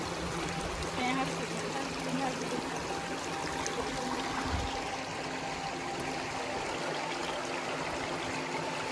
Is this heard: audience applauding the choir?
no